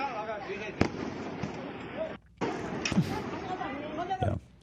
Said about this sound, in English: Yeah, they sound like firecrackers.